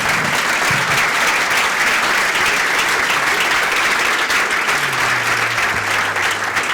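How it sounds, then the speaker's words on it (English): An audience at a Startup Grind talk in London claps continuously in a dense, steady wash of applause, loud and even throughout, with faint voices underneath. "give Vernon another big round of applause."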